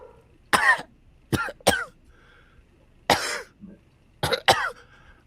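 A voice imitates a small child's coughing: short, raspy hacks in quick pairs and triplets with pauses between, close and fairly loud.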